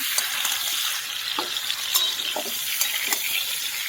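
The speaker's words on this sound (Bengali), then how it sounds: "আবার ঢাকাটা খুলে একবার নেড়ে দেবো।" Raw green mango pickle being stirred with sugar in a pan, a continuous soft sizzle with scattered scraping and light clinks of the spoon against the pan, close and steady with no speech.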